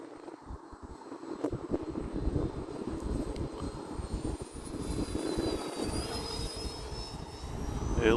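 An E-flite A-10 Thunderbolt II RC jet with twin 64mm electric ducted fans flies overhead, its whining fan roar steady and loud, with a rising whistle as it passes amid outdoor wind.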